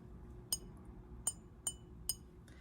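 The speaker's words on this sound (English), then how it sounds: "because this is a thicker glass, we don't get the kind of hum that our other glass gave us" A thick wine glass is handled up close, giving four short, bright clinks spaced unevenly over a couple of seconds against a quiet background.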